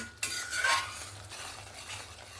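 Cashew-poppy masala paste sautéed in a pan for a vegetarian doi potol, a sharp spatula scrape followed by a close, steady sizzle, with no voices.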